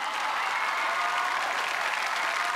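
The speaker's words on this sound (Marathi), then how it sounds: "जोरदार टाळ्या मीनलसाठी" A studio audience at the Marathi comedy show Chala Hawa Yeu Dya claps loudly for an actress, a thick, continuous roar of applause from many hands with no break.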